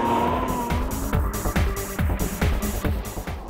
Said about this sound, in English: So you keep your foot on the brake, I get this thing revving up to a really good speed